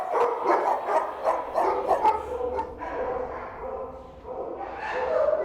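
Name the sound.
dogs barking at an animal rescue centre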